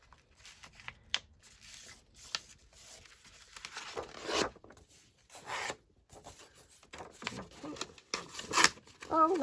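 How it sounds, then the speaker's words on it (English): Paper pages are pulled down and torn for a junk journal, with rustling and rubbing building into a longer ripping tear partway through, then more crinkly handling and short tears close by. "Oh no, I've torn straight through it."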